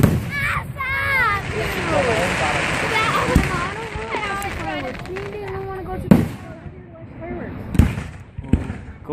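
Fireworks at a Remus Days celebration, going off close by with sharp cracks and thumps scattered through the clip, mixed with crackling and excited voices, including a child, talking over them.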